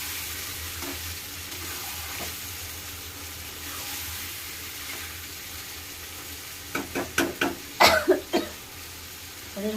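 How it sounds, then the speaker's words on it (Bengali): Mutton and spices sizzle quietly in a pan as they are stirred, a soft steady fry with a run of scraping stirs and a cough near the end. "এবার এটা কষাবো ভালো করে"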